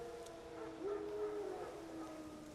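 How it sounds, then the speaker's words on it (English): Wild dogs in the video game The Witcher 3 give faint, distant whining howls that waver over a low ambient background. No one speaks. "Wild dogs."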